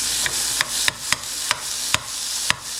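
A spoon scraping and scooping corned beef hash in a pan, with about seven sharp, evenly spaced scrapes over a steady sizzle, close and clear with no talk.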